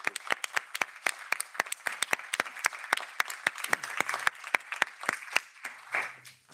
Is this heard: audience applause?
yes